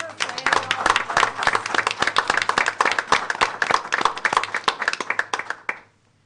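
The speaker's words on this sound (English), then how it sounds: "So I want to give a round of applause to Nancy for planning all of this." Audience applause at a school board of education meeting, honoring Nancy: dense, steady clapping from a roomful of people, fairly close, holding evenly for about five and a half seconds before cutting off into silence.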